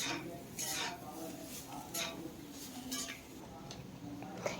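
A spoon stirs cooked bitter gourd and onion in a pan, giving a few scattered scrapes and soft clinks at an irregular pace, faint and close, with someone talking quietly in between.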